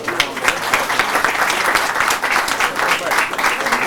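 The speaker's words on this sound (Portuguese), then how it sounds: "pedir uma salva de palmas ao Dia Internacional da Mulher" Loud, dense applause fills a legislative chamber during an ordinary council session, a steady sustained roar of many hands clapping with no speech over it.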